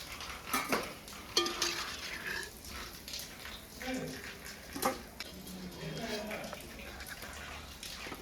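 Fried gulab jamun made from instant mix being moved into another vessel in a village kitchen: a few metal clinks and scraping clatters of a ladle against pots, with a quiet voice talking in between.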